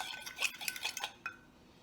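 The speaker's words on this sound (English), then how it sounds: "I'm going to give it a good stir." A utensil stirs microwaved pineapple in a dish with a quick run of clinks and scrapes, then a single last tap rings out before quiet.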